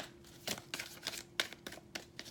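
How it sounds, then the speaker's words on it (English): A deck of tarot cards being shuffled up close, with a series of short, crisp riffling bursts in an uneven rhythm and no talking. "And one more shuffle."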